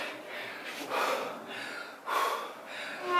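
Heavy, forceful breaths in and out during a dumbbell HIIT workout, three broad gusty bursts close to the mic with brief pauses between them.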